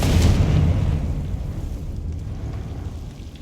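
A Confringo fire spell bursts in the Hogwarts Legacy video game, a loud booming blast that rolls out into a long rumbling, crackling decay over several seconds, with no talking.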